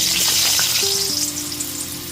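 Cubed potato pieces fry in hot mustard oil in a wok with a loud, close, continuous sizzle. Faint stirring sounds come through underneath.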